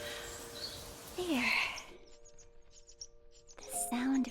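Birds chirp in the quiet ambient scene of the Saint Maker video game, short tweets and trills over a soft background with a faint hum, while a voice speaks briefly.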